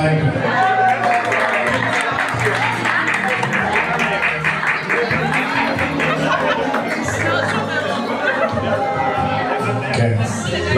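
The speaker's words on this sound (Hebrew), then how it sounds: "תנו לו קצת כפיים." Guests at a hair-cutting ceremony clap steadily in a crowded hall, the applause blending with loud chatter and music for the whole stretch.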